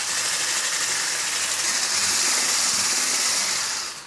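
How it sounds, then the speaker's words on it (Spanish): Electric hand mixer whirring steadily as it beats eggs and sugar in a bowl in a home kitchen, a loud continuous buzzing drone with a slight rattle that holds level for about four seconds, then eases off at the end. "Y vamos a batir hasta que empiecen a montar y que se vea la mezcla bastante más blanquita."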